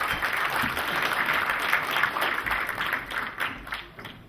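Audience at a Korean venture forum applauding as the chairman is welcomed to speak, a sustained bed of many hands clapping with a few louder claps near the end.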